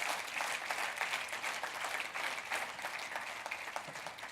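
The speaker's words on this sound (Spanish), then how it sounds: "Denle un fuerte aplauso a Cristo," A church congregation gives a strong round of applause for Christ, steady dense clapping that carries on evenly for several seconds with no voices.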